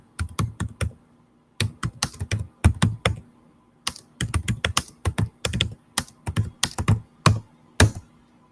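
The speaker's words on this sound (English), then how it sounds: "Let me type it in." Keys clatter on a computer keyboard in quick bursts of typing, separated by short pauses, close and fairly quiet with no talking.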